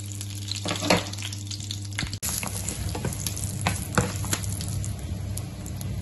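Garlic and onion frying together in a little oil, a steady bright sizzle with occasional stirring scrapes and clinks of the pan, close and continuous.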